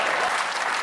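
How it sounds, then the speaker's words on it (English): A studio audience at the British panel comedy show Have I Got News For You breaks into loud, dense applause and cheering, a brief burst close up and alone. "Well, they're cheering an A-level."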